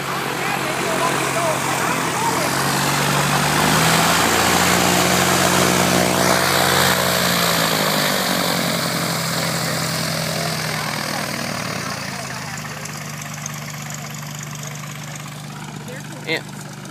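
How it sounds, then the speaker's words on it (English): A propeller plane's engine drones steadily and loudly at close range, swelling and then easing off, with a person talking over it. "That plane gives you a whiff of diesel fuel."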